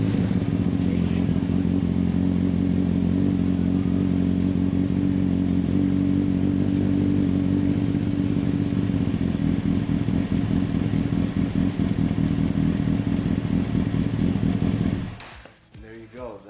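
A 2006-2007 Kawasaki ZX10R sportbike engine idles close by with a loud, steady, throbbing rumble that carries on for about fifteen seconds before it is shut off and falls quiet.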